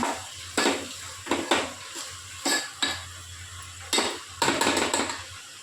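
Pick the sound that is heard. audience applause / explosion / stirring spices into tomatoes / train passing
stirring spices into tomatoes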